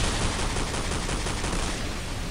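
Dense, continuous automatic gunfire in the online shooter Planetside 1, loud and sustained with overlapping shots and no pauses.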